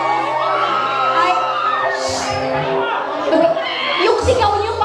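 A crowd shouts and cheers at a lively Filipino gathering, with children's yells and whoops rising in loud overlapping bursts close by while chatter runs underneath.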